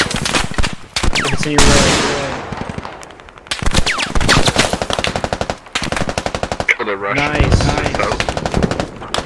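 Rapid machine gun bursts ring out loud and close in a video game squad battle, several long strings of shots with short pauses between them, as a voice talks over the firing.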